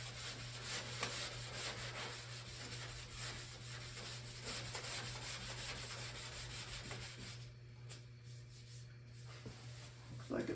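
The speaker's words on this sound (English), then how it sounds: "I'm going to take some 800 sandpaper dry and see if it gets clogged up or if it works." Dry sanding of sealer primer on a 1976 classic car body using 800 grit sandpaper, a faint, steady back-and-forth rubbing scratch that continues for several seconds alone, pausing briefly near the end.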